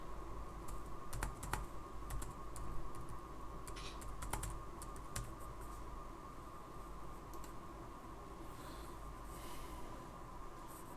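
Faint, sparse keystrokes on a computer keyboard as a user ID and password are entered, small clusters of clicks over a steady low hum, with no talking.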